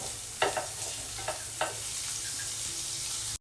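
Butter melts in a pan with a constant close sizzle, broken by a few soft scrapes of a utensil across the metal.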